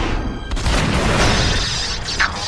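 A Dalek's weapon firing in an audio drama: a loud, dense blast of noisy energy filling the whole moment, harsh and close with no speech.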